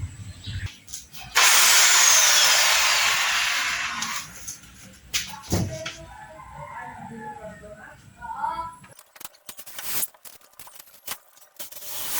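Power drill driving screws into a plywood wall panel, one long loud whirring run followed by a few shorter bursts, with knocks and handling noise and some speech in between.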